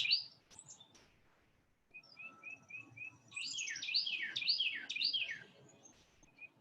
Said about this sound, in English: such as sounds, like the sound of a beautiful bird. It's singing for us right now.